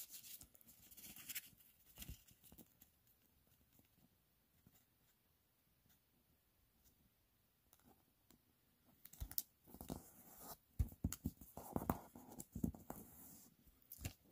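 Paper for an origami fox is creased and folded at close range, with soft rustles and crinkles early, a quieter stretch, then a flurry of louder crackling folds and taps near the end, with no talk.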